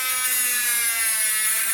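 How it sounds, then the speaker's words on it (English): A lock pick is sanded and filed by hand, giving a steady, close, bright rasping hiss that runs unbroken for under two seconds with no talking. "start sanding and filing this down to the way that I want it"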